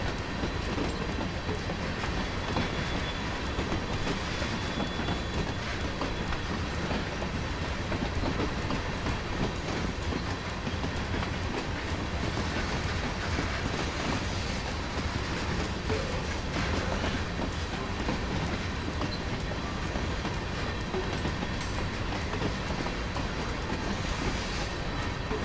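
A train running in Train Sim World on the Ruhr-Sieg Nord route, a steady rumbling roll with rhythmic wheel clatter and occasional squeals, continuous and fairly loud throughout with no talking.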